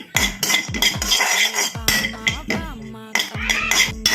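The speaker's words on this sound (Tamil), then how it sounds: "முந்திரி பருப்பு நல்லா வறுக்கணும்" Cashew nuts roast in a metal pan while a spoon stirs them, giving repeated sharp clinks and scrapes against the pan, close by and irregular.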